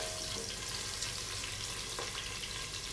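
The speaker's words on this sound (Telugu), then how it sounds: "ఇవన్నీ కూడా బాగా ఒకసారి మిక్స్ చేసుకొని గోల్డ్ కలర్ వచ్చేంత వరకు ఫ్రై చేసుకోవాలండి." A tempering of red chillies and curry leaves fries in hot oil for dal, a steady close sizzle with faint stirring scrapes and no talk.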